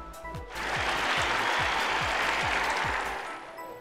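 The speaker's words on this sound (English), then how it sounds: "Let's get the crowd wild and cheering." A crowd in the video game Bug Fables cheers in a broad roar that swells in, holds steady and fades, with a row of regular low thumps running underneath.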